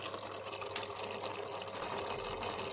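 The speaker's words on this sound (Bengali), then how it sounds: "আবার এখানে একটু জল দিচ্ছি।" Water is poured into a pan of cauliflower and peas curry, giving a steady, close hiss and splash that holds evenly throughout with no talking.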